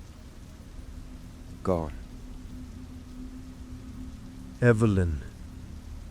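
Steady rain as a soft, continuous hiss in the background, with a quiet voice speaking briefly twice over it; no thunder stands out.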